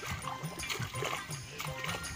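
A dog out in a farm field beside a farmer, making whimpering, yipping noises in a repeating rhythm, close by with rustling and splashing around it.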